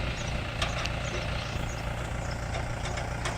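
A Kubota L4508 DI tractor's four-cylinder direct-injection diesel runs steadily nearby, a continuous low rumble with a faint intermittent clatter.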